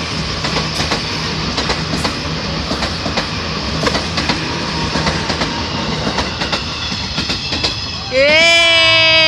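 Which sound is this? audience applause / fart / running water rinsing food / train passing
train passing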